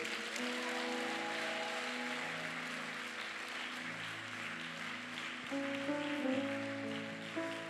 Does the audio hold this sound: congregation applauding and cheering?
yes